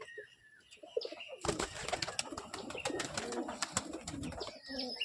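Pigeons in a rain-soaked pigeon loft coo and flutter close by, a busy, dense spread of calls and wing movement that starts abruptly after a quieter opening and continues steadily.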